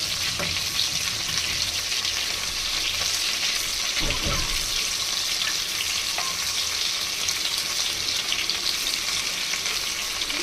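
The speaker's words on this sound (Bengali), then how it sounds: "এখন একে একে মাছগুলো দিয়ে ভেজে নিব।" Pieces of boal fish being fried in hot oil in a wok, a loud continuous sizzle with bursts of spattering and a brief thud as a piece goes in, heard close and without speech.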